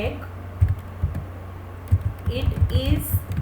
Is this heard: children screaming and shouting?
no